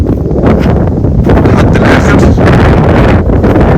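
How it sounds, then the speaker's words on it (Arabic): Strong wind buffets the microphone outdoors on a lemon farm, a loud, continuous roaring rumble that fills the whole clip with steady gusting. "معلش بقى الهوا النهارده جامد"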